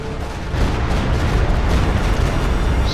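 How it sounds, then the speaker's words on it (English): Stuka barrage in a WWII strategy game: a dense, continuous roar of explosions and rumbling artillery impacts, loud and sustained throughout. "Stuka barrage"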